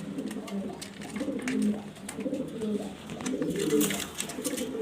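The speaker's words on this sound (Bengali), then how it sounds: "দেখার মতো কবুতর এগুলো" Jorna shorting pigeons coo in a low, rolling, continuous murmur, several birds overlapping close by, with brief higher chirps and clatter above.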